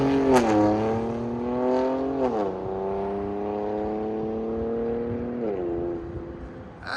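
2018 Infiniti Q60 3.0L twin-turbo V6 with a full 3-inch straight-pipe exhaust revving: close, loud engine notes rising and falling through several blips with a raspy, steady drone between them, and no talking.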